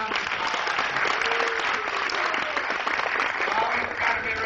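Convention audience at an acting workshop breaks into sustained, lively clapping, close and full, with scattered voices and cheers mixed in.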